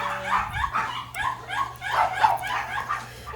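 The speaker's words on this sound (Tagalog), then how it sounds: "So amo gali ang mga duran nga mga dogs, mga Shih Tzu." Shih Tzu dogs barking in quick repeated yappy bursts, about a dozen sharp barks close by with a faint low hum beneath.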